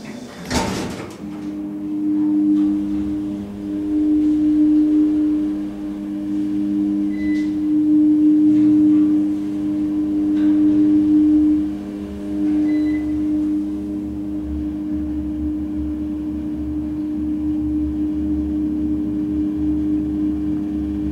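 The Campbell Court elevator motor hums steadily with a low drone and a sustained whining tone that wavers and drops out at times, after a sharp clunk at the start, with faint clicks scattered over about twenty seconds.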